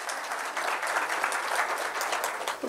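An indoor audience at a medical association speech applauds together, a dense, even wash of clapping that holds steady for a few seconds without any voices over it.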